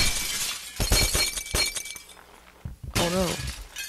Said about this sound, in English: Glass fall.